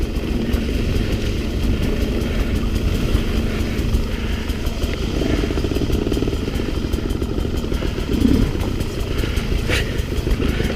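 A Sherco 300 SE-R dirt bike rides along a narrow trail through tall ferns, its engine buzzing steadily and loudly throughout, close to the rider, with a brief throttle swell near the end.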